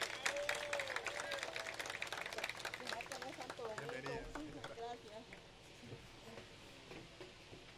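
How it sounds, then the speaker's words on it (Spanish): An audience at a land-title handover ceremony in Colombia breaks into loud, sustained applause that gradually thins and fades toward the end, with voices mixed in. "Un fuerte aplauso."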